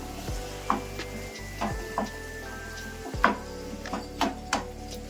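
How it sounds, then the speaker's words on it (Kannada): Tomato is stirred into a tempering in a pan for Bangalore-style stuffed brinjal curry, with a quiet sizzle beneath repeated sharp scrapes and knocks of a spoon against the pan, alongside a low steady hum. "ಒಂದ್ಸರಿ ಮಿಕ್ಸ್ ಮಾಡ್ಕೊಳ್ಳೋಣ ಒಗ್ಗರಣೆ ಜೊತೆಲಿ."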